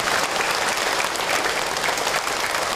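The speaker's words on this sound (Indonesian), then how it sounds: "Tepuk tangan buat ibu atau yang bertanya" A religious study gathering applauds a woman who asked a question, with a dense, even burst of clapping from the audience throughout.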